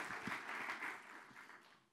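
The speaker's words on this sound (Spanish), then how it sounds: "damos un aplauso al, Pastor Pablo" A church congregation applauds a pastor during a Spanish-language service, with a brief, faint burst of clapping that fades out quickly.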